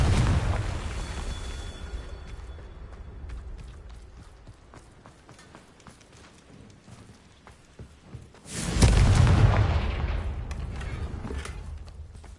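A fiery spell explosion in Hogwarts Legacy erupts with a deep, loud whoosh and rumbling blast late in the scene, following an earlier fading burst and quieter scattered clatter.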